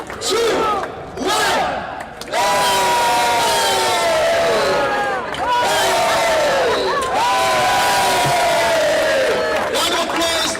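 A crowd at the opening ceremony of the IMC Over 40's Cricket World Cup bursts into loud cheering and whooping that carries on for about ten seconds, with sustained raised voices throughout.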